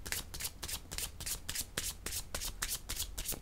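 Playing cards being shuffled for a card reading, a quick rhythmic riffle of about a dozen crisp flutters, close and fairly quiet, with no talk.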